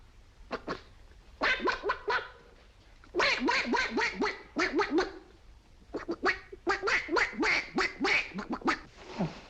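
A man in a 1946 film imitates a duck with rapid, nasal quacks, delivered in several bursts with short pauses between them.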